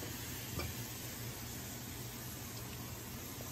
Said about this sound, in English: Okay, so I'm gonna add my onions now